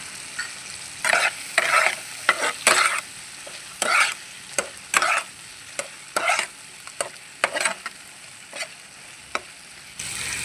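A spoon scrapes and stirs chilli chicken with tomato ketchup in a hot pan, irregular clattering strokes over a low, steady sizzle.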